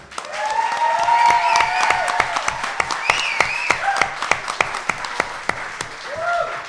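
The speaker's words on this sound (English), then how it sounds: "in-house, a big round of applause for Alyssa Nourie." Loud, sustained audience applause and cheering fills a live grand finale competition event as a finalist is introduced, dense clapping with whoops and shouts rising over it before it thins toward the end.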